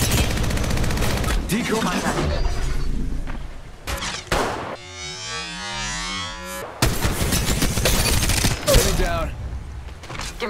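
Rapid bursts of close, loud gunfire from the mobile battle royale game Apex Legends Mobile, coming in several volleys with a brief lull midway and a voice speaking over the shots.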